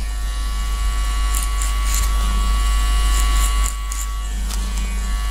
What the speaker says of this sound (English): open on the Babyliss FX Pro, but whether, doesn't really matter what kind of clippers you're using.